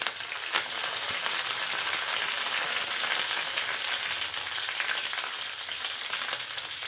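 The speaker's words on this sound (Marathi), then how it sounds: "तेल तापलंय, मोहरी घातली आहे मी भरपूर. कढीपत्ता घालते." Curry leaves and plenty of mustard seeds sizzle in hot oil, a steady, bright frying hiss with small crackles and pops, close and unbroken, with no talking.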